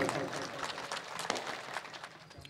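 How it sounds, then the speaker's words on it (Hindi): A gathering at a poetry recital applauds a poet called to the microphone, a busy patter of many hands clapping at moderate distance, uneven and lively throughout. "उनके इस्तकबाल जोरदार तालियों से उनका इस्तकबाल करें।"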